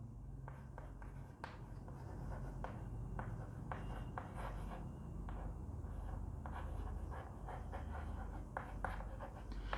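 Writing on a board during a biology lecture, with faint chalk-like taps and strokes scattered over a constant background hum.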